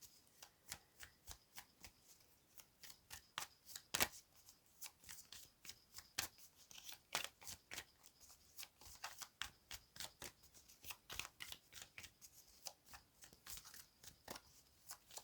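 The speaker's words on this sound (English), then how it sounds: "If you wish, you can always fast forward past the shuffling portion." Tarot cards being shuffled by hand: a steady run of crisp riffling snaps and slaps, close and fairly quiet, with no voices over it.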